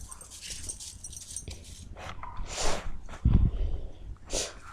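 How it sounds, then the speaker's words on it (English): A dog close by snorts and sniffs in short bursts, with soft whimpering noises and breathy huffs between them, fairly quiet against an outdoor background. "Look at the dog."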